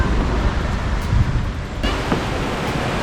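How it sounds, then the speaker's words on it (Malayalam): Strong wind rushes steadily through palm fronds near Pothundi Dam, Nelliyampathy, a loud, continuous roaring hiss with no voices. "പനൻ്റെ ശബ്ദം നല്ലോണം ഉണ്ട് കാറ്റടിച്ചിട്ട്"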